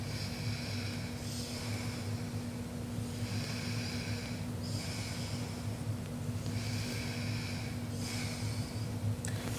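One-sided nostril breathing exercise: slow, steady inhales and exhales through one nostril repeat in an even rhythm, close and soft over a low constant hum, with no talking.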